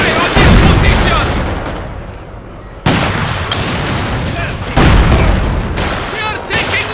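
Battle gunfire and artillery booms from the game Company of Heroes 2, with a Russian side in a 3v3 match: dense, continuous shooting with heavy blasts, loud and close, and sharp new bursts around the third and fifth seconds.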